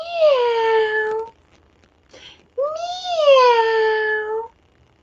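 A storyteller's voice imitates a cat meowing: two drawn-out, rising-then-falling meows, loud and close, separated by a short pause with a faint breath.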